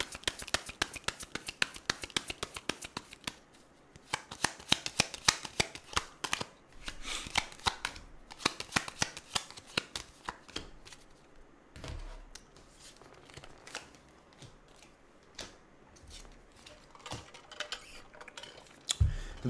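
Tarot cards are shuffled and handled in fast, dense riffles and taps, close and fairly soft, with brief pauses between bursts and no speech.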